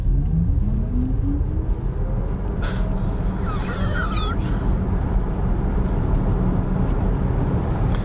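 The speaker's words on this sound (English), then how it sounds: "see how fast this car can accelerate 0 to 100 kilometers an hour" A Volkswagen ID.3 electric car accelerating hard from 0 to 100 km/h, heard from inside as a steady loud road and tyre rumble with a faint rising electric motor whine.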